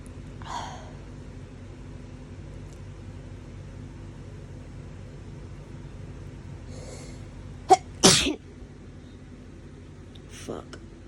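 Allergy sneezes from an adult, sharp and close, one quick burst early and a louder double sneeze later, amid quiet room noise with some talking.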